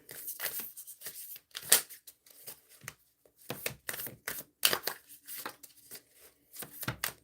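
New, stiff tarot cards being shuffled in short, irregular bursts of riffling and slapping, close and fairly quiet with gaps of silence between.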